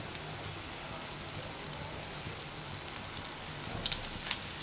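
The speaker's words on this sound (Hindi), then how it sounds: "मैंने 1 कप ऑयल पैन में गरम करने रखा था। अब इसमें ये तल लेते हैं।" Spring rolls shallow-fry in a pan of hot oil, giving a steady, faint crackling sizzle with a few sharper pops, heard alone.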